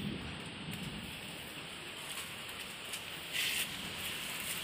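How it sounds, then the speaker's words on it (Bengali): Steady rain pouring down outside a rural home during a sudden downpour, a constant broadband hiss of drops on surfaces, fairly close and continuous with a brief brighter spatter near the end. "এই দেখুন বৃষ্টি পড়ছে।"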